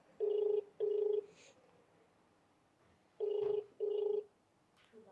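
A telephone ringback tone sounds twice in paired bursts, pauses, then repeats the double ring as the call goes unanswered, clear and moderately loud against a quiet background.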